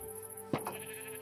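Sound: sheep bleating in video game Minecraft

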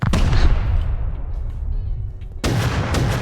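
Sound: gunfire in the video game Rust

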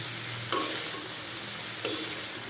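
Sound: vegetables (cauliflower, cabbage, potato, carrot) cooking in a pan

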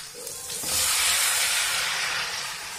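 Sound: tomatoes sizzling as added to hot pan with onions

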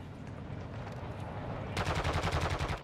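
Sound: gunfire in a video game

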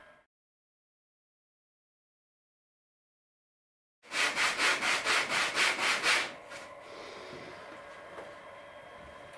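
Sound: hand planing and sanding wood into triangular stock

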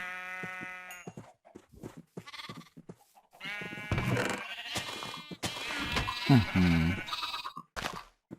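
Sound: sheep bleating in video game Minecraft

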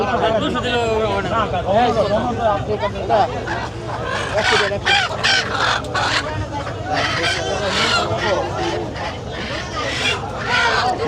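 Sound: chickens and roosters clucking at riverside market

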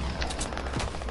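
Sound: gunfire in a video game

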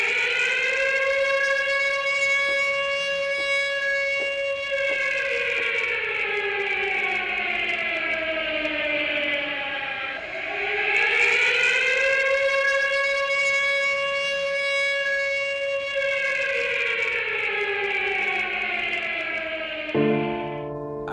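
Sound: memorial siren sounding for the AMIA bombing commemoration

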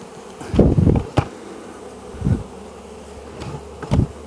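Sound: honey bees swarming during a beehive rescue

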